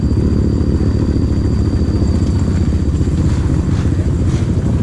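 Motorbike engines at an Indonesian trail event, a trail bike alongside a Yamaha RX-King two-stroke, rumble steadily nearby in a continuous low, rough drone with clattering texture and no pause.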